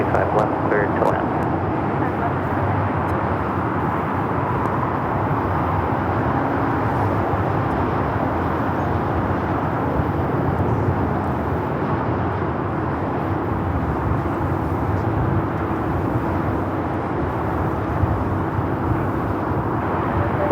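A heavy Boeing 777 landing on LAX runway 25 left gives off a continuous deep engine rumble, loud and steady for about twenty seconds, with faint voices underneath.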